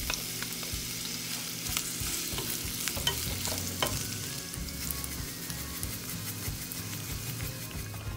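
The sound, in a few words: onions caramelizing in a frying pan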